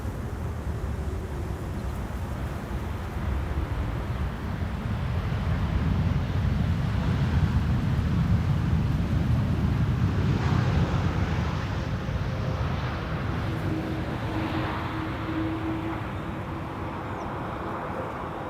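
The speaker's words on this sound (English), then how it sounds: "KLM flight 668 arriving from Austin, Texas." KLM airliner arriving on the Polderbaan runway at Schiphol in breezy weather: a distant jet roar swells gradually, peaks mid-clip and slowly fades, with wind noise throughout and no talk.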